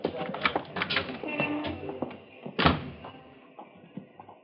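A door opens and shuts in a radio drama, with a firm knock-like thud partway through among other clattering effects and background sounds, fairly quiet overall.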